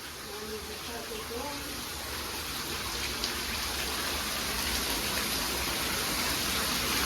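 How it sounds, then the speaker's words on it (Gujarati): Water falls and drips from the ceiling of a cave temple set in a river, a dense, even wash of patter that swells slightly over time, with a brief voice at the start. "ઉપર ક્યાંય પાણી પડે છે બધેથી."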